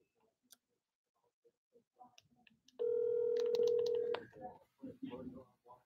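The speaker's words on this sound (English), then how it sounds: "I'm going to call the person up." A phone line gives a steady ringback or dial tone for over a second after scattered faint taps, then a recorded voice and a person speak over the line.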